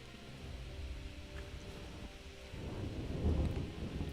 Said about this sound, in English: That better not be a storm I just heard.